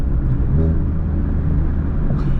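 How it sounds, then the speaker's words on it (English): Turbocharged Honda Civic Type R, built to around 500 hp, runs with a steady low engine drone and rumble through a gear change, the revs briefly lifting as automatic rev matching blips the throttle on the shift. "The auto rev matching always gets me."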